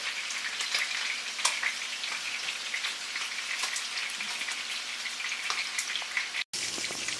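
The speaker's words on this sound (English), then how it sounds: "our steak is sizzling in the pan" Steady, crackling sizzle of sirloin steak frying in a hot pan, continuous and close, with no talking.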